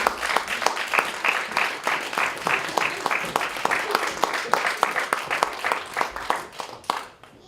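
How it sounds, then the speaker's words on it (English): Lively clapping from an audience at a poetry competition awards ceremony, individual claps distinct and rhythmic, sustained for several seconds before tapering off at the end. "Let's give them a massive round of applause."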